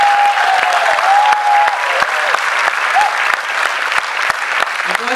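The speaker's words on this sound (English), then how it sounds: "So please give all the kids a big round of applause." Audience applause for a children's Ramayana play performed by kids, a steady broad wash of clapping hands filling the room from start to finish, with a few faint voices and a tonal whistle-like sound drifting underneath.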